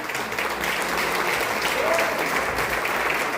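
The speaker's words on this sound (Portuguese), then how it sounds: "Aplauso para o Senhor." Congregation in a church claps for the Lord during a Portuguese-language service, a dense, loud, continuous wave of applause from many hands, with a faint voice briefly rising over it.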